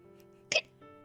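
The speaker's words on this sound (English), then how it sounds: "I got the hiccups." A single short hiccup from a character in the Amnesia visual novel, sounding once over a quiet sustained music bed.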